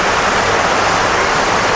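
Water rushes loudly and steadily like a small waterfall beside old lava flows near Mount Fuji. The broad, unbroken roar is close and continuous throughout, with no speech.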